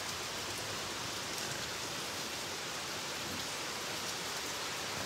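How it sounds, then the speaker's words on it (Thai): Steady rain pours down at Buddhapadipa Temple in London, an even close hiss of drops striking surfaces with no pauses and no voices. "ไม่ค่อยได้เห็นฝนมานานก็เลยถ่ายทอดสดให้ท่านได้ดูบรรยากาศฝนที่วัดพุทธประทีปในวันนี้"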